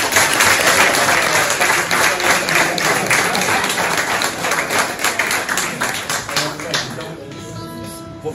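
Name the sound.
audience applause at a fado performance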